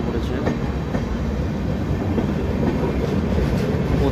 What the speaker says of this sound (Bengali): প্রচুর বড় ট্রেনটি আমাদের মুর্শিদাবাদ স্টেশনে ঢুকে পড়েছে